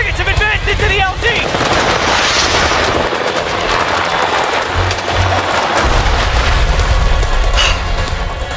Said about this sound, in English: We are under fire and going down.